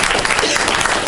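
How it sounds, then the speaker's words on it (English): Dense, steady applause from an audience in a university prayer room, loud and close, continuous clapping with no other sound. "So if we can give them a round of applause"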